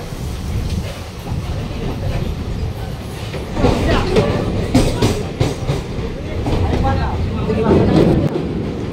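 A Kolkata Chakra Rail local train running along the Hooghly riverside, its steady rumble and clattering wheels filling the clip, swelling louder toward the end.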